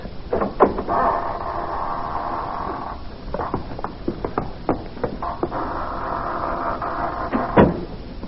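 A door opens to let people into a room in an old-time radio drama, giving two long creaking, scraping passes broken by clicks and knocks of the latch and frame, fairly close and at moderate volume.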